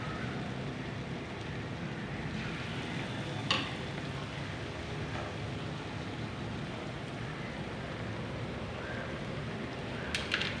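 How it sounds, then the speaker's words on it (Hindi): Potato pakoras deep frying in hot oil, a steady dense sizzle and bubbling that holds evenly throughout, with a couple of brief clinks or stirring taps near the start and end. "बाकी भी इसी तरह फ्राई कर लेंगे।"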